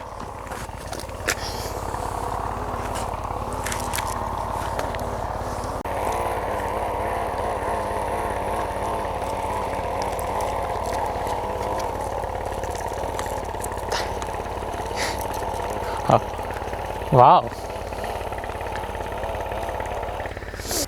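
A homemade mini plowing tractor's small engine runs steadily with a continuous rough drone while its tires slip on the soil, a couple of sharp clanks near the end and a brief exclamation from a man.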